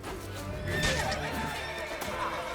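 A horse in The Witcher 3: Blood and Wine gives a loud, close neigh that rises and trails off, with light hoof clops and game ambience around it and no speech.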